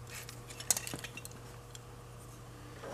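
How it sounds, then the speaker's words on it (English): Brittle, decades-old wiring on a 1930s General Electric Monitor Top refrigerator is snipped with wire cutters, giving a few faint crisp clicks and crunches early on, then only a low steady background hum. "It's just cutting it with wire cutters. You hear the crumbliness?"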